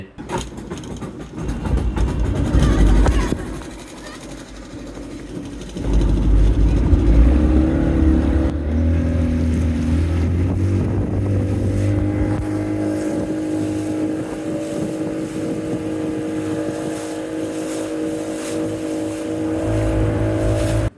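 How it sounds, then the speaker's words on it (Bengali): Speedboat on a pond at Sokher Polli Park in Naogaon, its engine a loud steady drone with a surge after a brief dip, running continuously under rushing water and hull noise. "আমরাও স্পিডবোটে উঠে পড়লাম"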